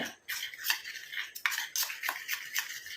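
Homemade hair dye mixture stirred briskly in a bowl, giving close, repeated scraping and clinking strokes in an uneven rhythm, with no voices.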